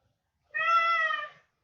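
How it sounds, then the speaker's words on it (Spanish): A single cat gives one clear, close meow lasting just under a second, alone, with no voices over it. "El gato."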